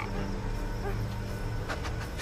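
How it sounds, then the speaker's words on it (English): A dog barking and yelping nearby in the Far Cry 3 game, a few short agitated barks over a steady dense background of ambient game noise. "What is that dog going off about?"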